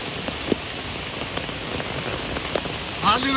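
Rain falls steadily at Hirve Kurd waterfall in the open, making an even, close hiss of drops with a few brief brighter spatters.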